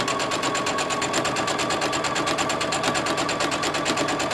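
A sewing machine with a 1/4 inch piecing foot stitches down the length of fabric strips for a quilt block, a steady rapid whirring chatter running close and continuous.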